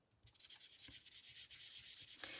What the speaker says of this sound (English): And I'm just rubbing that dauber across the top of that design.